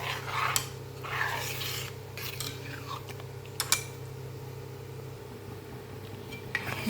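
Ghee is stirred in a heavy bronze urli over an unlit stove, with intermittent scraping and rasping strokes of the spoon over a low, steady background hum.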